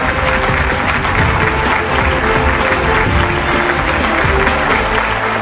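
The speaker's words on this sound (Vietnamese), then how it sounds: "Hãy dành một tràng pháo tay chúc mừng cho thí sinh Xuân Hương thật tự tin và may" Studio audience applause for a contestant on a Vietnamese TV game show, a dense, steady roar of many hands clapping that holds loud and continuous throughout with no pause.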